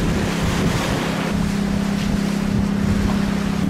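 A huge ship passes at sea beside a sailboat motoring on the open ocean between Brazil and French Guiana, heard as a steady low engine drone under continuous wind and wave noise, with no talking.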